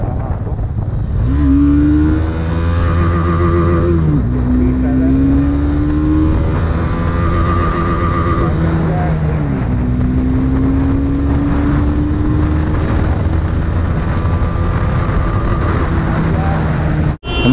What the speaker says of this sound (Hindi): तो गाइस मेरे पास है 19 मॉडल डोमिनार और आपको इसका फर्स्ट गियर दिखा रहा हूँ